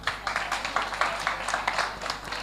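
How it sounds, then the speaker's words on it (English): An indoor crowd at a women's fintech hackathon gives a round of applause, a spread of scattered, moderately loud claps that carries on for a couple of seconds. "A round of applause for Simon."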